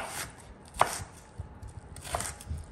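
A knife chopping an onion on a cutting board: two distinct sharp knocks with a few softer taps between them, close and alone.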